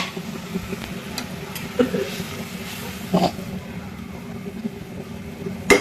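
Fried hilsa fish and tomatoes simmer in a pan with a low, steady sizzle and bubbling, broken by a few soft clinks and stirring knocks.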